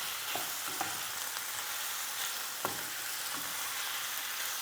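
Moussaka mixture with paprika frying and being stirred in a pan, a steady faint sizzle with a few soft scraping clinks of the spoon.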